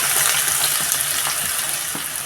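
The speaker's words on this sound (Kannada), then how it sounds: "ಸೊ ಎಣ್ಣೆ ಕಾಯ್ದಿದೆ. ಸ್ವಲ್ಪ ಜೀರಿಗೆ, ಚಿಕ್ಕದಾಗೆ ಆನಿಯನ್ನ ಚಾಪ್ ಮಾಡಿ ಇಟ್ಕೊಂಡು" Cumin and finely chopped onion sizzle steadily in hot oil, a constant close crackling hiss with no talking.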